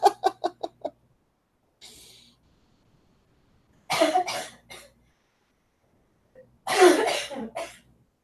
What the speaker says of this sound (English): That cough sounds a little bit more productive today